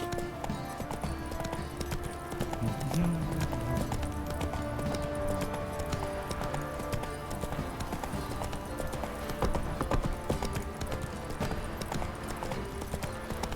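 Roach, the horse in The Witcher 3, gallops with a steady, rhythmic clip-clop of hooves, close and continuous under game music and ambience, without any voices.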